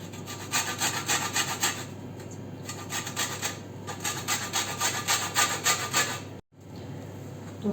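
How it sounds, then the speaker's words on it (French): Lemon zest is rubbed against a grater in quick rhythmic back-and-forth strokes, close and fairly quiet, in steady bursts with brief pauses before a short silence near the end. "j'ai fini de râper le citron"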